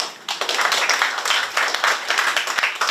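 Audience at an award ceremony in Korea breaks into steady applause, many hands clapping loudly and continuously throughout, a full room's ovation with no voices on top.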